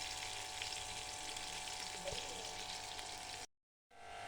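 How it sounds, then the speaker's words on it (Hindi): Onion sizzling in a cup of hot oil in a pan for kadhi pakora, a dense steady crackling fry close by, ending in a brief cut of silence before the sizzle resumes. "अब हमने 1 कप ऑयल लिया और इसके अंदर प्याज शामिल कर दिया।"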